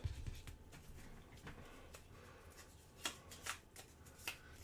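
During a Stars of Akarios tabletop game, a deck of cards is shuffled nearby. It is faint and quiet, with soft riffling patter and a few sharper snapping bursts near the end.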